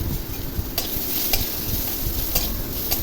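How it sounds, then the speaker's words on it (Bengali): Raw mango pieces, cut with the skin on, frying in oil with salt and turmeric, giving a dense, constant close sizzle broken by a few sharp stirring scrapes. "নুন হলুদ দিয়ে আবার ভালো করে ভেজে নেব"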